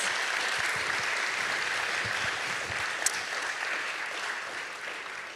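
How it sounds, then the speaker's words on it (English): Fairly quiet applause from an audience at an education policy talk, a soft, even patter of many hands that continues throughout, with one brief sharp click partway through. "Let's give him a round of applause."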